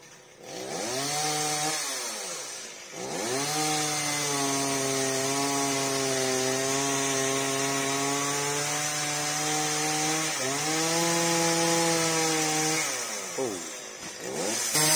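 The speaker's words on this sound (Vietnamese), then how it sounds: "Bây giờ anh cưa nhánh ngoài luôn nè các bạn." A chainsaw cuts outer branches while felling a rain tree in a backyard in the Mekong Delta region, its engine revving up and holding a strong, steady whine, dipping briefly between cuts, loud and close with no talk.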